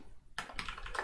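Typing on a computer keyboard into a terminal window, a quick run of close, faint key clicks starting after a brief pause, with no talk.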